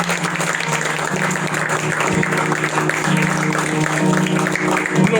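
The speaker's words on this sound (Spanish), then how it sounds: "Más de 8 pueden darle un aplauso al Señor." Congregation applauding during a church service, moderate clapping mixed with a low sustained tone and room noise, fairly steady throughout.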